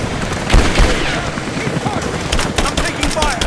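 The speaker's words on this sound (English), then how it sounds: "I'm taking fire." Video game gunfire crackles in loud, rapid bursts of shots at close range, with a voice talking briefly over the exchange.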